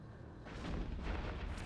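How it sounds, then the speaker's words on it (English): Scorpion battleship in the space game Eve Echoes firing every weapon at once, a dense, rumbling barrage of booming cannon and gun blasts that swells and holds, moderately quiet. "you can do this fit on the Scorpion, and you too can fire every single weapon in the game."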